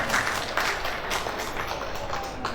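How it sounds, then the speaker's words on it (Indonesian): A short burst of applause from a crowd at a regent's handover ceremony in Nganjuk, Indonesia, scattered clapping that continues evenly for a couple of seconds. "Tepuk tangan dulu untuk semuanya"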